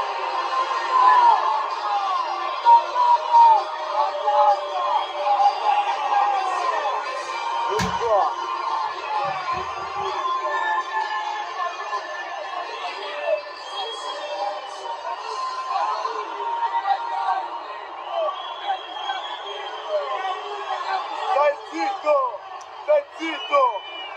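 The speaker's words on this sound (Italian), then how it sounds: "E i tifosi pure bestemmiano, sì sì." Juventus fans protesting and cursing in a stadium after a 2-2 draw with Venezia, a steady roar of crowd voices and shouting with a few sharp slams, sustained throughout.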